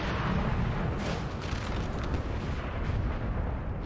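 Dense artillery barrage in Napoleon Total War, around ten cannons firing at once: a continuous rumbling roar of overlapping booms, loud and unbroken, no talking.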